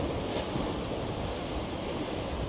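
Waves strike the starboard bow of a sailboat under way on a choppy sea, a dense, continuous rush of water and wind noise, loud and close with no talk.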